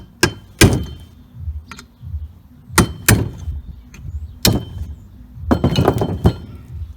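A hammer strikes metal to knock bushings out of drag car suspension on a Nova build, giving a string of sharp, ringing hits spaced unevenly, some single and some in quick clusters, with clanking and shuffling between blows.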